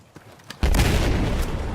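SAR 21 rifle fire in Battlefield 4, a quiet lead-in followed by a sudden loud burst of close gunshots that blur into a dense, sustained roar.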